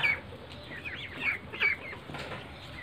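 Ducks on a rooftop give a few brief, faint quacks and clucking calls spread over a couple of seconds against a quiet, slightly noisy background.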